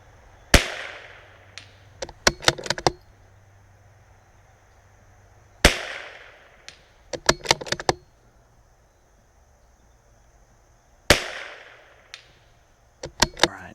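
A CZ 457 rifle fires single sharp shots three times at a steady interval, each followed by a quick cluster of metallic bolt clicks, fairly faint against a quiet outdoor background.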